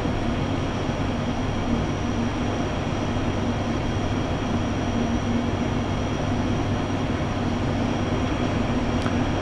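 Steady, loud cabin roar of a brand new ATR 72-600 turboprop landing on Bornholm's 2,000 metre runway, a dense unbroken drone with a constant tonal hum running throughout, no voices.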